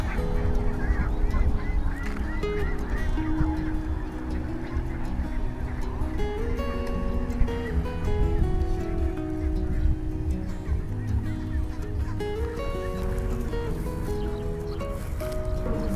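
A huge flock of over two thousand ducks, some of them pink, being herded home across the Mekong Delta countryside, their honking quacks overlapping into a constant, busy chorus with engine-like rumble beneath.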